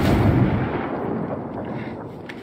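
A loud grenade explosion booms in a multiplayer shooter game, starting with a heavy low blast and rolling off into a long rumbling tail that fades gradually.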